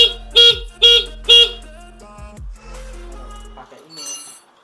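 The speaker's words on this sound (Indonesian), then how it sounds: "Dan ini barusan menggunakan klakson." A Yamaha NMAX scooter fitted with a remote alarm gives three short, loud electronic horn bursts in quick succession, then a quieter stretch of mixed tones and clatter nearby.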